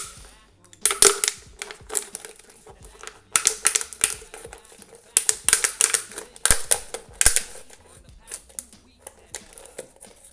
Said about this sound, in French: je vais couper un deuxième morceau de la bouteille plus haut